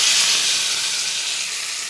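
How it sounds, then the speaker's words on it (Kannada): Spices for tempering sizzling in hot oil for a cabbage sambar, a loud, steady bright hiss that fades slightly, with no talking. "ಒಗ್ಗರಣೆ ಹಾಕಿ,"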